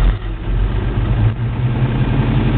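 A car engine with a suspected faulty accelerator pump, still not warmed up, revs unevenly and struggles to climb, a steady close mid-low drone that never rises cleanly.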